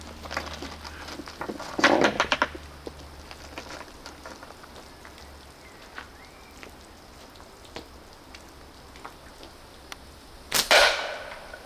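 Slingshot shots fired with TheoBand Gold flat bands and steel balls at water-filled cans, two sharp cracking impacts several seconds apart, each a brief loud burst against a quiet background with small clicks between.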